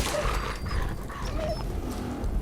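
A dog in the Fallout 4 Horizon video game, yelping and whimpering amid dense, noisy combat sound, with no talk over it.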